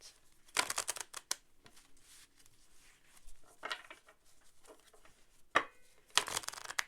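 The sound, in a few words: tarot cards being shuffled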